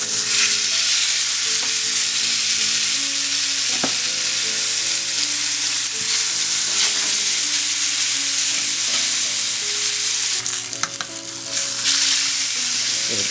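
Marinated pork chops fry in hot vegetable oil, a loud, steady sizzle that holds for the whole stretch, with a few utensil clicks and a brief scrape near the end.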